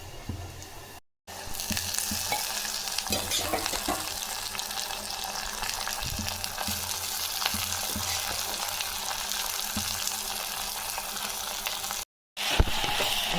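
Drumstick leaves sautéing in a pan with onion, garlic and chili, a loud continuous close sizzle with stirring scrapes, interrupted by two short silent gaps.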